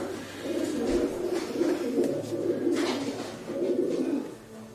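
Pigeon cooing in a loft, a steady low rolling coo repeated in several phrases across the whole stretch, fairly close and continuous with faint room noise behind it.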